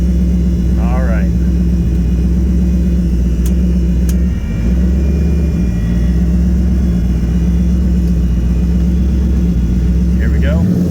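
Nissan Z31 IMSA widebody car with its engine running, a loud steady low rumble and drone that holds throughout at close range, with brief brighter squeaks over the top.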